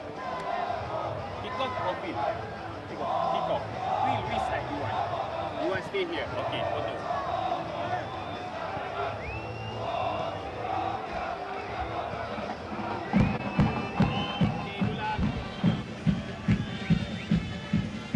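A home crowd at an AFC Champions League Group D football match between Navbahor and Mumbai City FC roars steadily in the background beneath continuous commentary, with rhythmic clapping or drumming surging near the end.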